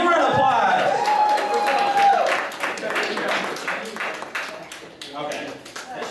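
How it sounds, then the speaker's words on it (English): A convention game-show audience claps for a contestant who just won a round of Anime Pass the Yen, a dense patter of clapping that fades gradually over several seconds, mixed with crowd murmur. "Give him a round of applause"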